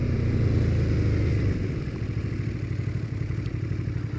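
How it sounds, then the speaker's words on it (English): A 2015 Aprilia Caponord touring motorcycle downshifts to first gear while riding, its engine note dropping and then settling into a steady low drone with faint clatter, heard close and alone. "Downshift to first."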